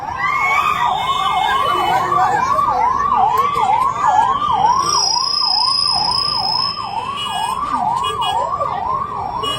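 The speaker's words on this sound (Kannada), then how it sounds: "ಆ ಆಂಬ್ಯುಲೆನ್ಸ್ ದಯವಿಟ್ಟು ಎಲ್ಲ ಜಾಗ ಕೊಡ್ರಿ ನೋಡೋಣ" A wailing ambulance siren cycles up and down steadily throughout, loud and continuous, with a faint high tone and traffic rumble underneath, amid a Ganesh immersion procession crowd in Mudhol, India.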